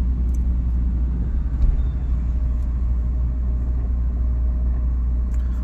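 Inside a car moving in second gear, a steady low engine and road rumble drones on, with a few faint clicks above it.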